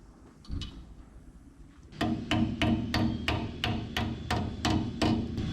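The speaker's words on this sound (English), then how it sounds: "Let's go see if we can tap these into place." A hammer taps parts into place on a 1961 Chevy wagon about a dozen times in a steady, even rhythm, close and crisp, after a few quieter knocks at the start.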